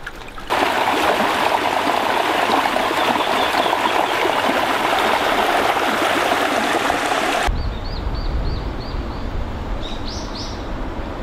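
A stream flowing beside a path in rural Japan rushes steadily and close, a dense unbroken watery hiss that cuts off abruptly, leaving quieter background with a few bird chirps.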